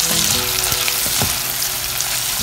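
Julienned capsicum frying for beef chili: a loud, close, continuous sizzle with a few stirring scrapes, no voices.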